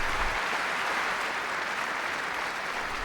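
Polite applause from a concert audience, a short, even patter of many hands clapping at moderate level, steady throughout with no voices over it.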